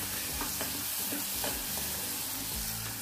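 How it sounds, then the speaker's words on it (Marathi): Broad beans stir-fried in a pan over a high flame give a loud, steady sizzle, with stirring scrapes and clatter close by and no talking. "आणि थोडं मोठा गॅस करून 1-2 मिनिटं परतून घेतले ते"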